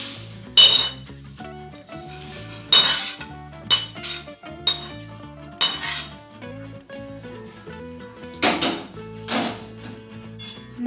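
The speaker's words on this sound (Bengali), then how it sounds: "তিলটা আমার ভাজা হয়ে গেছে, এবার আমি নামিয়ে নিচ্ছি।" Dry-roasted sesame seeds are scraped out of a pan for laddu, with bursts of metal clinks and scraping spoon strokes at intervals over steady background music.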